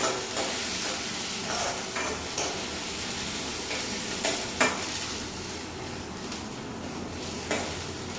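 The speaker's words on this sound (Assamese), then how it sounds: "ৰঙচুৱা হোৱালৈকে এইখিনি ভাজি ল'ব লাগিব" Steady sizzling of ginger garlic paste frying in a pan until reddish, with occasional scrapes and knocks of a spoon stirring throughout.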